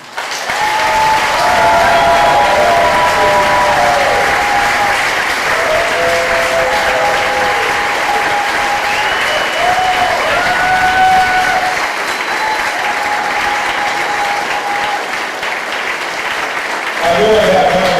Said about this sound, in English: I really have time to take a picture while the applause goes on.